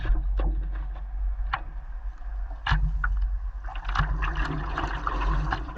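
A stand-up paddleboard is paddled out from an island on a windy sea off the Donegal coast near Gweedore, with a constant heavy wind rumble and intermittent close splashes and drips from the paddle strokes.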